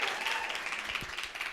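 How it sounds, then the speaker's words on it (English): Audience applause greeting a company founder and CEO coming on stage at a women's panel event, a steady wash of clapping across the whole short stretch, moderately loud and slightly distant. "Please give her a round of applause."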